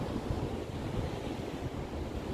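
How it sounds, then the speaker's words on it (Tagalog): Ocean waves wash continuously onto the shore at Hermanus, South Africa, a dense roar mixed with wind buffeting the microphone. "Ang ganda pakinggan ng ano ng alon"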